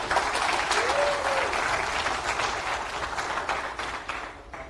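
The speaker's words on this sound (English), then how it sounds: "Please give them a hand of applause." An audience at a DebConf 25 birds-of-a-feather session breaks into sustained applause, dense and even at first, then gradually thinning out, with a brief whistle-like tone rising early on.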